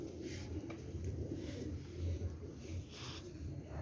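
Low, soft cooing from a golden pigeon repeats several times at moderate distance over a faint noisy background, with no clear speech.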